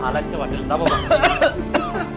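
A man coughs in a short anti-tobacco street play, a few rough, throaty coughs amid spoken dialogue, with voices close and clear around the bursts.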